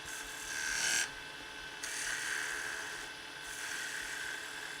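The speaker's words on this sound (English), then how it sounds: "all tip of the spindle gouge." A spindle gouge tip cutting wood on a lathe produces a steady, whining scrape under a constant motor hum, breaking off briefly and resuming as the tool meets the spinning workpiece.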